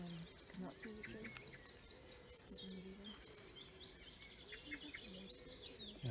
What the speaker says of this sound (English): you can hear a blackbird going there as well. That's the song thrush now.